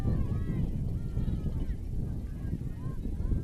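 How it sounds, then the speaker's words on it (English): Blustery wind rushes and buffets the microphone at an outdoor soccer match, uneven gusts forming a rough low roar that swells and eases throughout. "Wind really picks up for a moment."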